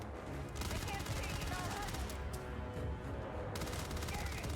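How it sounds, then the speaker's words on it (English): Gunfire rattles in rapid bursts during Starfield game footage, dense and loud from the start, with a brief thinner stretch in the middle. "The shooting looked a lot better than it did the last time."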